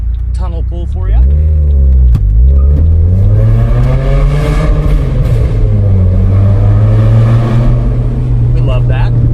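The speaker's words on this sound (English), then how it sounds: "Here's a little tunnel pull for you." A Chevrolet Cobalt SS pulls hard through a tunnel, its engine droning loud and close as the revs climb, dip with a gear change and rise again, echoing off the walls.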